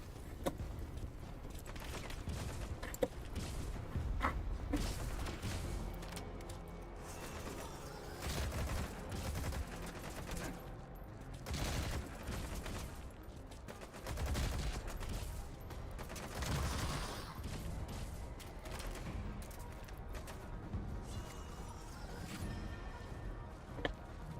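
An enemy soldier fires on the player in Metal Gear Solid V: The Phantom Pain, producing faint, irregular bursts and scattered shots over a constant low game soundscape.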